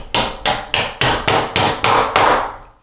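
Seven sharp metallic hammer blows drive a door hinge pin into the hinge of a sticking interior door, evenly spaced and close, with each strike ringing briefly before the next and the last fading out.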